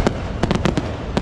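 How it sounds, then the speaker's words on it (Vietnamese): Loud fireworks explode above an island resort in uneven bursts: one sharp bang, then a tight cluster of cracks and a final pop, each with a booming echo and a crackling wash underneath. "Làm ơn đừng có mở nhạc nữa để tôi nghe tiếng pháo hoa."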